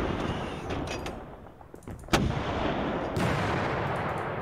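Tank gunfire in the Panzer Battles wargame, a sharp single crack near two seconds then a rolling rumble over a noisy combat backdrop, without talking.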